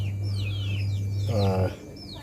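Chicks cheeping in a series of high, thin downward chirps over a steady low hum, with a brief lower clucking call near the middle.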